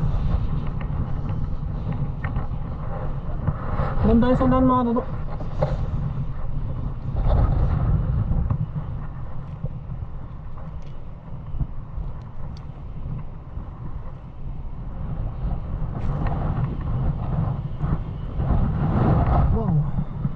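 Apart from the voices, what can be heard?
strong wind on a beach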